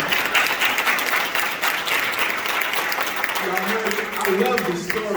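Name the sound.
audience applause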